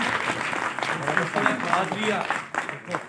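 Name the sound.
audience applause at a book release ceremony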